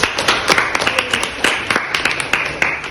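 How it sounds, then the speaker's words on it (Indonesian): Applause from a classroom of students for the first group, a steady burst of many hands clapping together with sharp irregular claps standing out, close and fairly loud with no talking. "tepuk tangan untuk kelompok 1."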